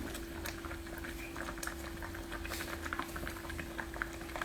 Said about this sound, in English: And the quinoa is bubbling up.